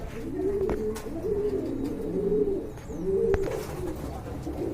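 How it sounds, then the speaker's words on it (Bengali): Pigeons cooing at a pigeon market, soft repeated low coos in a steady rhythm close by, with faint background clatter and no talk. "খুবই সুন্দর একটা কবুতর"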